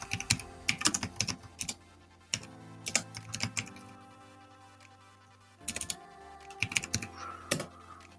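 Computer keyboard typing while a task list is entered, in quick bursts of clicky keystrokes separated by short pauses, close and fairly quiet, with no talking.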